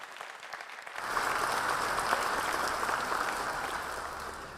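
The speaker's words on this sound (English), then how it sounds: "So I think we should give Sunderberg a round of applause, maybe." Audience applause fills a conference hall at an energy-efficiency and decarbonization event, bursting in after a second of quiet and holding as a steady, dense wash of many hands.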